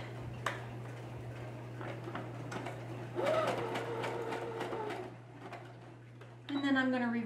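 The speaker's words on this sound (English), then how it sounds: "Just go to the widest width your machine will allow for a zigzag stitch." A home sewing machine runs a wide zigzag stitch across a fabric face mask, its rapid mechanical ticking close and steady in short runs, with someone speaking in between bursts and a constant low hum underneath.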